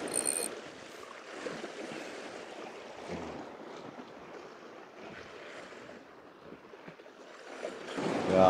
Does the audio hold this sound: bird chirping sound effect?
no